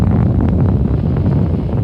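Deep, continuous roaring rumble of a Saturn V rocket launch at ignition, heavy low-end and buffeting like wind, loud and unbroken with no distinct voices.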